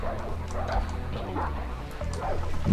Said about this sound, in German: Okay, da sind nur noch Hunde.